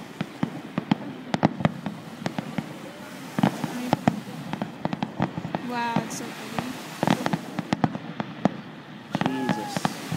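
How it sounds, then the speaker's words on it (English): Fireworks going off during a Victoria Day beach display: a string of sharp bangs and crackles at irregular intervals, some near and some farther off, with people talking and reacting throughout. "Fireworks are going off."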